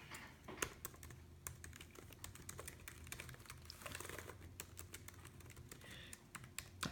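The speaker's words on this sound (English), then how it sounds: "The MacBook Air has the older style scissor mechanism, I think Apple calls it." Fast, steady typing on a MacBook Air scissor-mechanism keyboard, a close, even clatter of light key taps with no voice over it.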